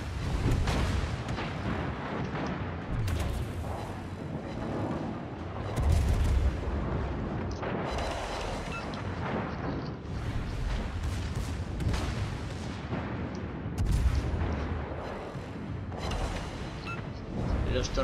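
Naval gunfire from the battleship Scharnhorst in a video game, with repeated deep booming salvos and rumbling blasts over a continuous loud engine and sea roar, close and heavy throughout.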